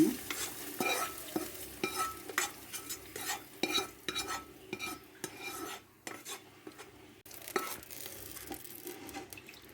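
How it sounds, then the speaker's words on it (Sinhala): A utensil stirs and mixes tempered rice in a pan, with irregular scraping and clinking strokes against the metal and a soft sizzle underneath, close and fairly quiet. "මේක දැන් හොඳට කලවම් කරගෙන"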